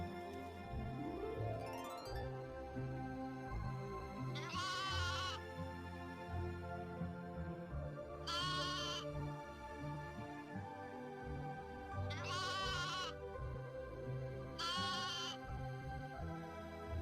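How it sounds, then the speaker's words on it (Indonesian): Sheep bleat several times at a distance, four wavering calls spaced a few seconds apart, heard over a soft background of steady music. "terdengar sayup-sayup suara domba yang cukup jauh"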